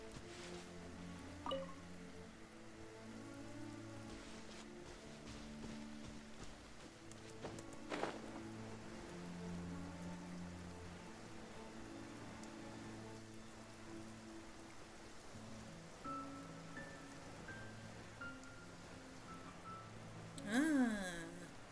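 Steady rain patters through a video game scene, a constant wash that runs beneath game music and effects throughout.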